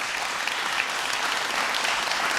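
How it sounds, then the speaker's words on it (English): Steady audience applause fills a city hall State of the City address in Pompano Beach, dense and even throughout with no voices over it. "thank you for the applause for that"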